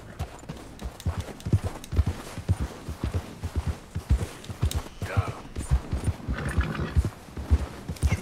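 Horse hooves clip-clopping in the video game Red Dead Redemption 2, a steady run of close, punchy hoof strikes in an uneven walking rhythm throughout, with occasional faint voices in the background.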